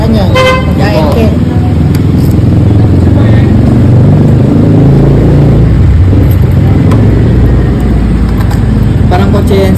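A Kawasaki Barako III motorcycle with electric start idles loudly and close by at a roadside, a dense continuous engine rumble with occasional horn-like toots, while people talk over it.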